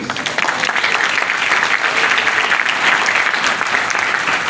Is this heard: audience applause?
yes